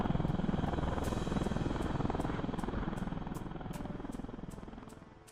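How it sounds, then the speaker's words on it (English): A V-22 Osprey tiltrotor aircraft in flight: a steady, heavy rotor thump with a deep engine drone, pulsing rapidly and evenly, loud and close, fading slightly toward the end. "This incredible machine is a unique combination of helicopter and airplane"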